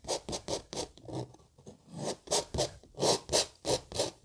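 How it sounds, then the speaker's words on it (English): Palette knife scraping oil paint off a landscape canvas, a series of short, close, rasping strokes in an uneven rhythm, about a dozen scrapes with brief pauses between them. "we're just gonna scrape all that paint away"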